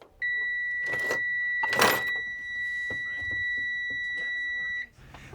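An electric school bus, switched on and running, gives a steady two-tone electronic beep that holds for about four and a half seconds. Bursts of broadband noise and faint low rumble sit underneath it.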